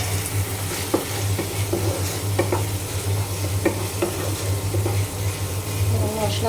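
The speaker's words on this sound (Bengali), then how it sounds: "তো এখানে এই যে ডিম রান্না করার জন্য এখানে মশলা দিয়ে দিয়েছে, মশলা কষানো হচ্ছে।" Spices for egg curry sizzle steadily in a pan while a utensil stirs and scrapes through them, with irregular clicks over a continuous frying hiss, close and fairly loud.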